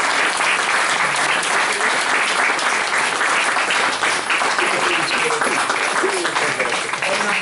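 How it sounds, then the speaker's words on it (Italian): Sustained audience applause at a public talk on mafia infiltration held in San Michele al Fiume, thanking a participant; thick, continuous clapping from a room full of people, loud and unbroken throughout. "Ringraziamo anche Francesco, facciamo un applauso."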